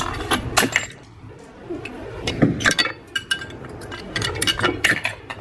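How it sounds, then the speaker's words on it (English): Brake pads being pried off a front caliper on a 2014-2023 Jaguar F-Type, giving sharp metallic clinks and scrapes in irregular bursts over a low workshop background, fairly close. "now we can just pop off these brake pads for the new ones"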